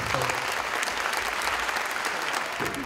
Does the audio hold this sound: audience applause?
yes